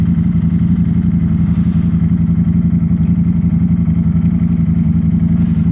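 A Ducati Streetfighter V4 motorcycle engine idles close and loud, with a steady, rapid low throb throughout and no talk.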